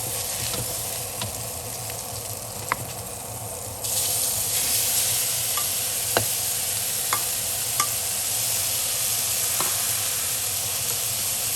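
Minced pork fries in a pan for a Thai chilli dip, a steady close sizzle that jumps louder partway through, with occasional clicks of a utensil against the pan and no speech.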